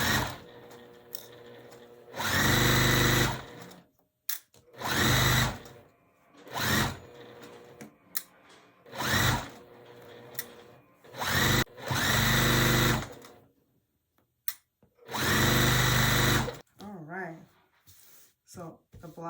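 Sewing machine stitching down quilt blocks in repeated short bursts of fast mechanical whirring, separated by pauses, with a person talking in between runs.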